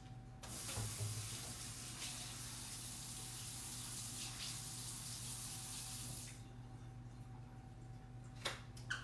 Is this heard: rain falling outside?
no